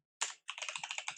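Text typed on a computer keyboard, starting with one sharp keystroke, then a rapid even run of close, crisp key clicks.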